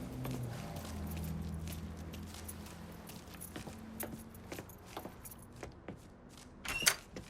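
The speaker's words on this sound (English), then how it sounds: "Hey, man, grab those keys." Keys jangle while being grabbed in Mafia III, a low engine-like hum fading under scattered metallic clinks and shuffling, ending in a brighter jingle.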